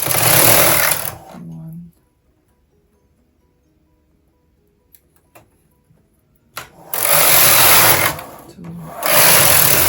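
A Brother KH 260 knitting machine with ribber has its carriage pushed across the needle bed for rows, making two loud raspy sliding passes separated by a quiet pause. A voice counts softly in the gap.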